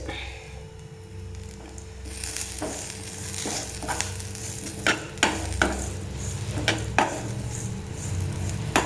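Grated coconut roasts in a pan for sambar, a faint low sizzle under background hum, with a few sharp scrapes and taps of a spoon against the pan growing more frequent toward the end.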